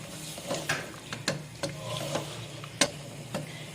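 Chicken and yogurt being stirred together in a pot for a creamy malai handi, giving scattered soft scrapes and clinks of a spoon against the pot at an irregular rhythm, close and moderately quiet with no talking.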